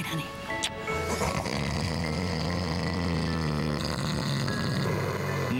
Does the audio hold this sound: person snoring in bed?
yes